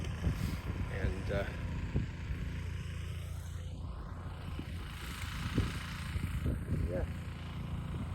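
A tractor cross-tilling a field in Newfoundland gives a steady, low engine drone under someone talking throughout.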